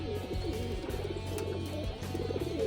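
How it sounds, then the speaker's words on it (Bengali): Domestic pigeons in a home loft coo in low, rolling, overlapping calls, close and steady throughout with a faint background hum and no speech. "গেরবাস পায়রা, এটা মেন ঘরেরই পায়রা।"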